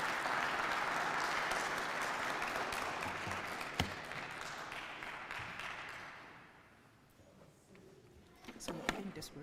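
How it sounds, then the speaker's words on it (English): A conference audience applauds in a steady, dense burst that fades out after about six seconds, followed by faint room noise and a few nearby handling sounds. "Please, let's give a round of applause to welcome Dr."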